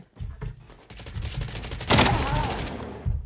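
Gunfire from Call of Duty Mobile: a burst of rapid shots followed by sustained automatic fire, loud and close, with a dense rattling volley in the second half and no talk.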